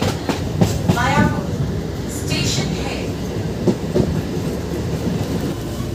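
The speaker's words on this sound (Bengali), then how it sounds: "আমাদের ট্রেন এখন মায়াপুর ঢুকছে" A Tarakeshwar–Goghat local train rolls into Mayapur station with steady clickety-clack of wheels on rails and a loud carriage rumble, while voices murmur faintly in the background.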